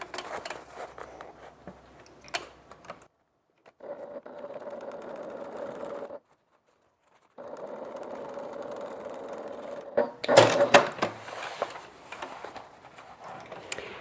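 A sewing machine topstitches a seam on a fabric evening bag, humming in several separate runs broken by short pauses, the last burst louder and rougher.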